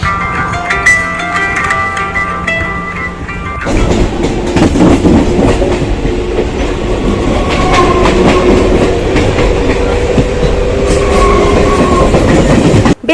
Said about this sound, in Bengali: আসতে না আসতেই আজকে ট্রেন এসে গেছে